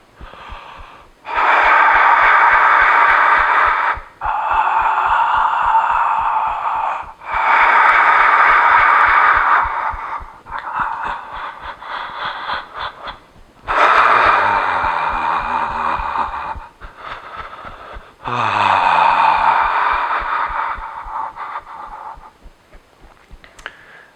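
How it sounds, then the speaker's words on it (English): Rhythmic voiced "ha" breaths during a standing breath-work practice, loud and close, alternating long sustained exhales and inhales in steady repeated bursts with brief pauses between, no talk. "Another offering of breath work would be ha, ha. So as you breathe in, make the ha sound."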